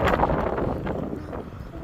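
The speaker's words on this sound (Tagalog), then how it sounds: "lakas ng hangin" Strong wind roars across the microphone near the water by an island, a continuous heavy rumble that buffets without pause throughout.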